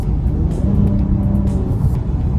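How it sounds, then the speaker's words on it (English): A Cadillac CT5's 3-liter twin-turbo V6 engine hums steadily from inside the car, a low constant drone with faint clicks and rattles over it. "it is a 3-liter twin-turbo V6 engine that produces 355 horsepower and 405 pound-feet of torque."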